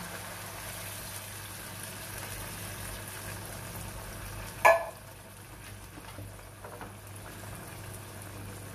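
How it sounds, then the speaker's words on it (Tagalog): A can of coconut milk with green chili simmers in a pan for a turmeric-spiced tuna dish, giving a steady, soft bubbling and sizzling hiss with a brief clatter midway. "Hayaan muna natin siyang kumulo. Ayan, kumukulo na"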